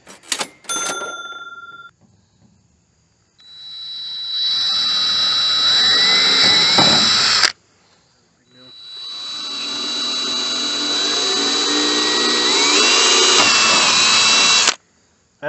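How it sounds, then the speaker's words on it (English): A 20 volt cordless drill spins up twice while drilling into a DIY button box, each run a loud, sustained whine lasting several seconds, with rising pitch and a short quiet gap between them. "Another thing you're going to need, a drill."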